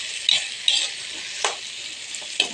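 Eggplant, string beans and bitter gourd stir-fried in a pan, with a steady hiss of frying and a few sharp scraping strokes of the spatula, close and alone.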